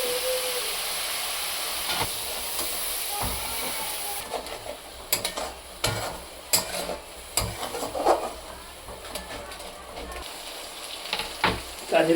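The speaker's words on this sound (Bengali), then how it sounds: "তো এটাকে 2 মিনিট ভালো করে কষাবো, টমেটোটা সিদ্ধ হয়ে যাওয়া পর্যন্ত" Ginger-cumin paste and tomato sauté in a pan, a steady close sizzle and frying hiss running throughout, with scattered scraping stirs and clinks from about four seconds on.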